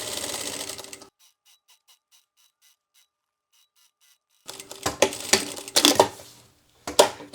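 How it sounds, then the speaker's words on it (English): Sewing machine top stitching fabric for a packing cube bag, short bursts of rapid mechanical stitching separated by a long quiet pause with faint ticks, then several louder uneven runs close by. "Remember to pull the fabrics apart as you're doing the top stitching."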